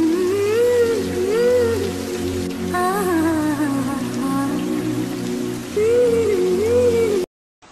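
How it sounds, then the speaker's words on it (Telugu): Rain falling outdoors during a Ganesh Chaturthi outing, a steady hiss under loud wavering tonal music that fades out abruptly at the end. "వర్షం పడుతుంది"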